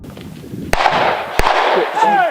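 A hunter's shotgun fires twice toward a cedar tree, two sharp, loud reports roughly a second apart, each leaving a short echo, with people talking around the blasts.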